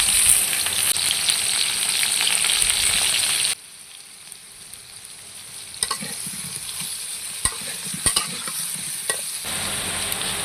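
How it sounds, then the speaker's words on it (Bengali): Potato pieces frying with salt and turmeric in a pan, a loud continuous sizzle that drops off abruptly partway, then resumes with crackling pops and sharp stirring clinks; no talking. "আলুগুলো আজকে ভেজে আমি মাংসের মধ্যে দিব লবণ আর হলুদ দিয়ে ভাজবো"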